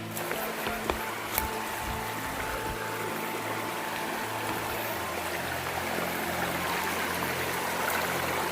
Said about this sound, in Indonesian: Sekarang lanjut, kita cuci dulu berasnya ya